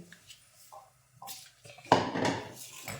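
A cooking pan set down and handled on a gas stove in a home kitchen, with soft metallic knocks and scrapes building into a louder clattering burst near the end.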